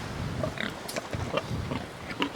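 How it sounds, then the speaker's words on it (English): Pastured pigs grunt and snort close by in short, overlapping bursts, with no talking. "Miss Carly Sue's got a pig pile laying right there"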